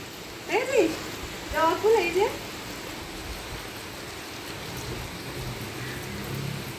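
Steady hiss of light rain falling outdoors in the evening, with a couple of brief voices or bird calls early on over the constant patter.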